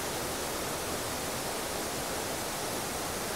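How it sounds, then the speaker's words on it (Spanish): Distant waterfalls, part of a set of seven cascades near Juayúa, make a steady, even rushing roar throughout with no voices or other sounds. "Allá están las cascadas"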